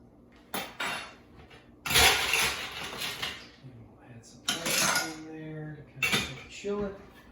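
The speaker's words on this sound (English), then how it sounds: "give it a little mix about the ice" Gin is stirred with ice in a mixing glass, giving clinking ice and spoon rattles in a few loud bursts over about seven seconds, with a voice talking faintly between them.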